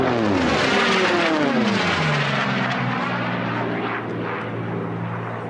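A racing airplane at the Reno air races roars past a course pylon, loud and close, its engine pitch sweeping down as it passes and then fading into a steady distant drone.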